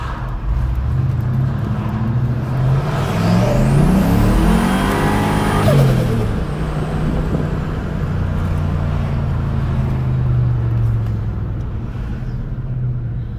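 A Ford Mustang engine runs rough at idle after a swap to 42 lb injectors, with an uneven, loping rumble that swells into a short rev mid-clip before settling back to a lumpy idle, close and loud throughout.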